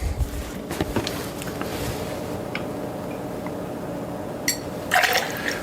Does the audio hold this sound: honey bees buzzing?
no